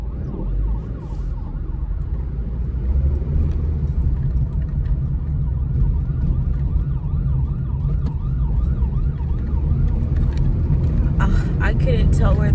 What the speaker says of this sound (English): I couldn't tell where the ambulance was coming from